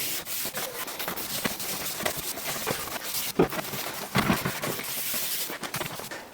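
A cloth rubs and scrubs stain off a Victorian gate leg table's wooden surface in repeated back-and-forth strokes, close and steady with occasional heavier swipes.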